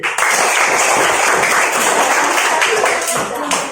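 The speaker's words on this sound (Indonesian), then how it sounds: "Tepuk tangan buat semuanya." A group claps steadily throughout, dense applause with voices mixed in underneath.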